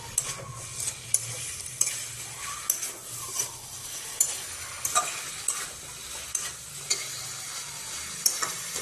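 Potatoes sautéing with soft bhetki fish bones in a pan, heard as a steady nearby sizzle broken by regular scraping and clinking spatula strokes against the metal, roughly once a second.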